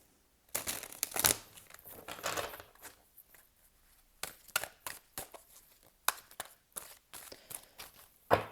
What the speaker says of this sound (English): They're not the easiest cards to shuffle, these ones. They're really slippy, slidey